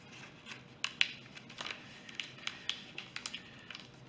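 Paper being creased and folded for an origami bird, a series of quiet crisp crackles and taps, close and irregular, with no voices.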